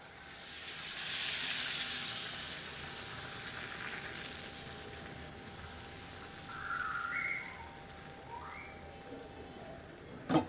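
Appam batter sizzles in a hot appam pan, a steady broad hiss running throughout with a brief brighter flare of frying near the end, close and moderately loud with no talk.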